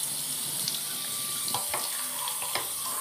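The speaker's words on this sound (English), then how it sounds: "I need to shower him very gentle." A shower runs over a long-haired dog during a bath, water hissing steadily and fairly quietly, with a few brief splashes and clinks but no voices.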